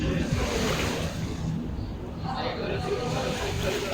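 Sea waves wash in at Salmia Beach in Kuwait, a continuous loud surf roar with gusts of wind buffeting the microphone.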